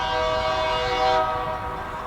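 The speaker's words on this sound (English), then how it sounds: "We're looking at this train just went in to pick up some grain cars at Ceres grain silos." A Union Pacific local freight train near the Ceres grain silos, by the Highway 101 crossing in Mankato, sounds its horn. It is a loud, close, sustained tonal blast that holds for about two seconds with no talking.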